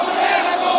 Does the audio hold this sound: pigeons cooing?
no